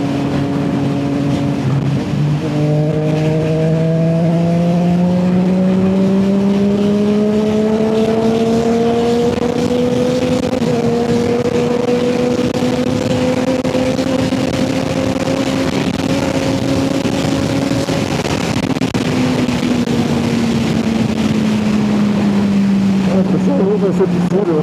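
A Triumph Street Triple 765 RS motorcycle is pushed toward top speed on a track, its engine climbing in pitch through several gear changes in a loud, sustained rising whine, with a voice talking over it.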